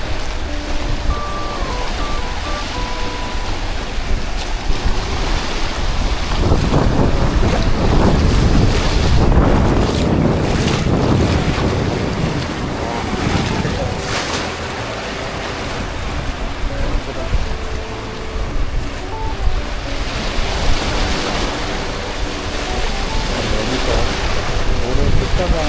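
Waves washing on both sides of a boat at sea near Kalanggaman Island off Malapascua in the Philippines, with heavy wind buffeting the microphone. The broadband rush is steady throughout and swells louder in the middle.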